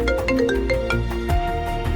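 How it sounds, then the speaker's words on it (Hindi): A mobile phone rings with an incoming call, playing a melodic electronic ringtone of bright, repeating notes over a steady backing for about two seconds. "उसके पापा गौतम का उसे फोन आया"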